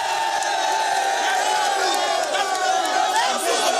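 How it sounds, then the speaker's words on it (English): A mammoth crowd of mostly women and youth cheering during a dignitary's visit to a community in the FCT, a dense, continuous roar of shouts and whoops that stays loud throughout. "A mammoth crowd, majority of them women and youth, cheered as they arrived at the area."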